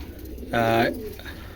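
A racing pigeon gives one clear, close coo inside a loft, set against faint background noise.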